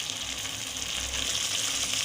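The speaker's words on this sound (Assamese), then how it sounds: "মই এইখিনি অকণমান ভাজি ল'ম" Spice paste fries in oil over low heat for a sesame seed fish curry, giving a steady, close, even sizzle with no break and no voices.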